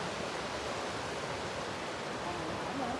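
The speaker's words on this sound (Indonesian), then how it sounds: "Ini penampakan sungainya." River flowing near a waterfall in a tea valley, a steady broadband rush of moving water, moderately distant and unbroken for three seconds, with faint voices.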